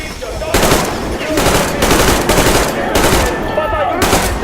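Rapid bursts of video game gunfire repeat in loud, dense volleys, each burst lasting about half a second to a second, with brief gaps between them and a shouting voice partly mixed in.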